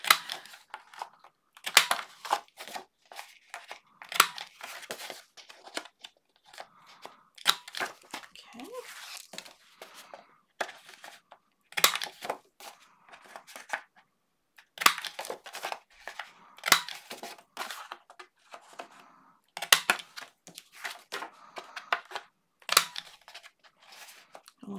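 Scissors cut paper into tiny pieces at a craft table, making short, crisp snipping and crinkling bursts in irregular clusters separated by quiet gaps.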